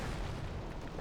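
A Hotchkiss and Wurfrahmen rocket barrage strikes in Company of Heroes, a dense, rumbling roar of overlapping explosions that stays loud and steady for about a second, with no talking.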